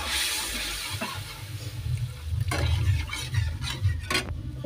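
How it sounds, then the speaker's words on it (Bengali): Hot water is added a little at a time to dry spice masala frying in a pan for a mushroom and egg curry. Splashy hissing and bubbling swell in uneven bursts, with scraping stirs in between. "এবার একটুখানি করে গরম জল দেবো"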